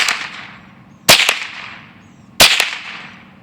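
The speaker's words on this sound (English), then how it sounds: "Going to do a standard 3-shot grouping so y'all can see how this weapon groups." Two sharp, loud rifle cracks from a Marlin Model 60 fired rapidly outdoors, about 1.3 seconds apart, each with a short ringing tail and no talking.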